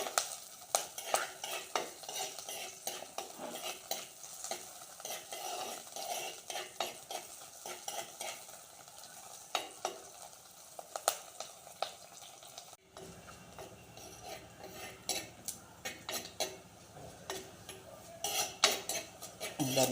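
Garlic and green chillies fry in a pan while a spoon stirs them, producing a continuous low sizzle broken by frequent sharp scrapes and clinks of metal on the pan, close and unaccompanied by speech.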